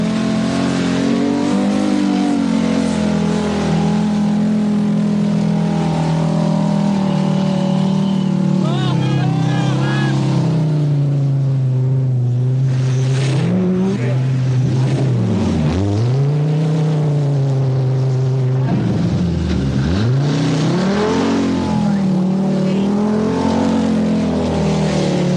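A 1983 Lombard RAC Rally car driven by Mikkola with broken suspension labours along a special stage, its engine droning loudly and continuously, pitch rising and falling through revs, with sharp dips as it slows and reaccelerates, under a commentator's voice.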